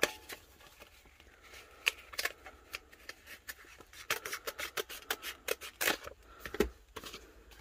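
Crisp, irregular snipping and rustling of scissors cutting through a thin vinyl sheet, close by, with bursts growing busier toward the end.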